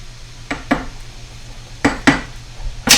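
A utensil stirring boiling rotini pasta in a pot, giving several sharp metallic clinks and scrapes in uneven clusters, close and fairly loud with no talk.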